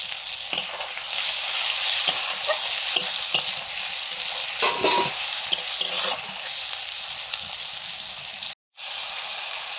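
Spices with red chilli powder and green chillies frying in a pan, a loud continuous sizzle with repeated scraping stir strokes, briefly cutting out near the end before resuming.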